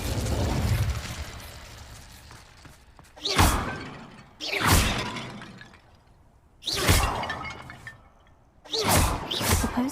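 Vases smash one after another in Hogwarts Legacy, four sharp shattering crashes spaced a second or two apart, each a loud burst of breaking ceramic that trails off, with a low rumbling game ambience between them.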